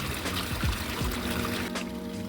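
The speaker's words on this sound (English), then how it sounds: "I'll probably put a little bit more water in here today rather than wait a couple days" Water pours steadily into a backyard pond, a continuous close trickle and splash running unbroken throughout with no talk over it.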